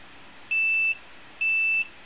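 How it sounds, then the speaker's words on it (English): A Scythe Kaze Master Pro KM03-BK fan controller's fan-failure alarm: two identical high-pitched electronic beeps, each about half a second long, separated by a short pause over faint background hiss. "if the fan stops, I'm just going to stop this fan so you can hear the alarm"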